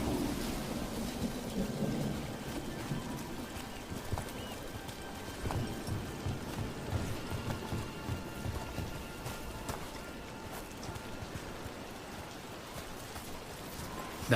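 Steady rain pours down in a Dragon Age The Veilguard scene, with low thunder rumbling beneath it and a faint rhythmic clopping that sounds like hooves, all continuous and fairly loud for the whole stretch.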